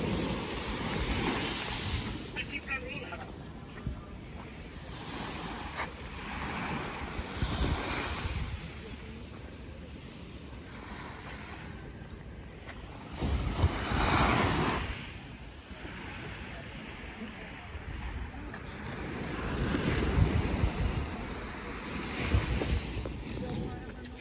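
Flattish surf washing onto the beach at Platja de Palma, Mallorca, under an offshore wind, with gusts buffeting the microphone and swelling louder in bursts; quiet speech drifts in underneath.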